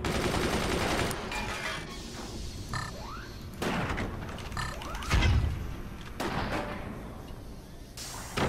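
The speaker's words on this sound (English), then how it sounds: "Ooh, we got a hit with a mortar." Mortar fire in the Forts video game, repeated booming shots and blasts in an irregular series, loud and close, with whistling projectile sweeps between them over a busy battle din.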